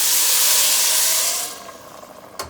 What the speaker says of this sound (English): let me pour that in